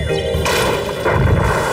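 A cartoon gun fires in Oggy and the Cockroaches, giving two sharp, booming blasts about half a second apart over a dense, busy background.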